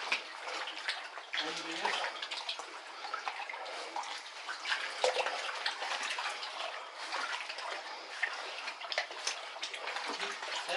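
Water splashes and sloshes continuously as people wade through an abandoned tunnel, a steady rushing wash with occasional louder splashes, close by, with a brief voice heard over it.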